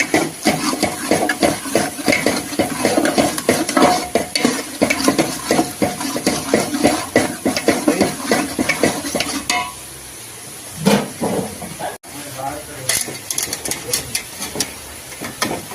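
Fenugreek leaves with salt being stirred in a frying pan, a busy run of repeated metal scraping and clatter over steady sizzling, easing briefly before resuming, with some faint voices in the background.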